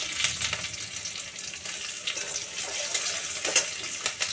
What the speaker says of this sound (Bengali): একটু ভাজা ভাজা হলে লঙ্কা কুচি দিয়ে দিলাম একটা